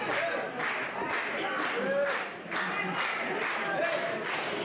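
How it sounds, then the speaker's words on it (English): A wrestling event crowd cheers and claps in rhythmic bursts, roughly one swell per half second, with a brief dip midway, the noise sounding somewhat distant and diffuse. "Loving the energy from this crowd."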